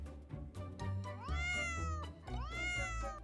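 Two drawn-out cat meows, close and loud, each rising then falling in pitch, with soft background noise between them.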